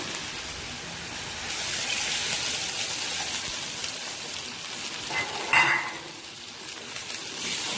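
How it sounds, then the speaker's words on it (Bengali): Water is poured into frying spices to make a curry gravy. A steady sizzle gives way to a sharp hiss and splash partway through, then settles into a softer bubbling. "এখন আমি ঝোলের জন্য জল দিয়ে দেবো।"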